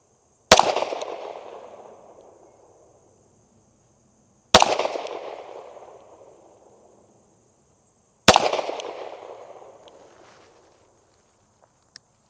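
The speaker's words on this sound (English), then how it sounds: "Okay, 3 shots." Three single shots from an S&W CSX pistol ring out several seconds apart. Each sharp report fades in a long echoing decay, with quiet between the shots.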